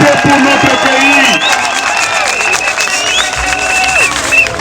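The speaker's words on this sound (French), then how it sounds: "Applaudissez pour notre pays" A crowd at a Congolese political rally claps and cheers steadily, with a broad wash of applause and raised voices throughout, while a voice rings out over a loudspeaker.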